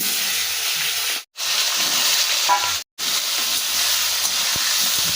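Potatoes frying in hot oil tempered with cumin seeds: a steady, loud sizzle and hiss, close up and continuous, cut by two brief silences and some faint low clatter.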